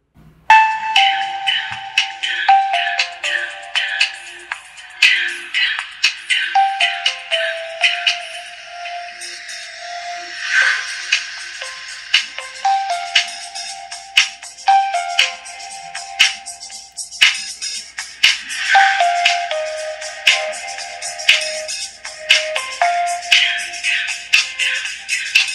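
A Samsung SGH-F275L mobile phone plays its ringtones one after another, bright electronic melodic chimes in repeating patterns, loud and close with no talking.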